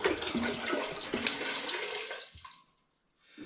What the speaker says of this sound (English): this is now going to be 10 litres altogether of spring water, splashing everywhere